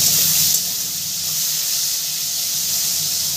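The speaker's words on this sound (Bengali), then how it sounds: "ঠিক এরকম করেই একটু হিটটা মাঝারি আঁচে রেখে তোমরা ঝিঙাটাকে ভেজে নেবে" Ridge gourd fries in a pan over medium heat, giving a close, continuous bright hiss of sizzling with no voices.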